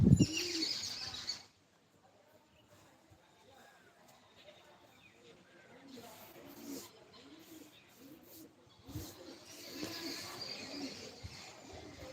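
Pigeons circling around a house, with soft cooing and bursts of wing flapping near and far. A voice talks over them and outdoor ambience carries on throughout.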